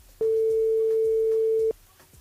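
A single telephone ringback tone as a French live radio show calls a listener back: one steady, loud, unbroken tone lasting about a second and a half, with quiet background before and after and no talk.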